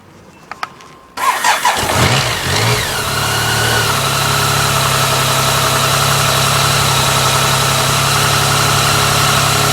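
A BMW K75 motorcycle engine cranks with a few clicks, catches loudly and settles into a steady, close idle, running alone after a front tyre sealant fix.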